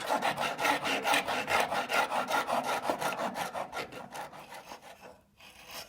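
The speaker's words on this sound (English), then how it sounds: "The profile is made with a series of crosscuts down to the line and then chopped out with a chisel and refined with a file." Rhythmic back-and-forth strokes of a saw or file on five clamped wooden butter knife blanks, steady and close, slowing and fading near the end.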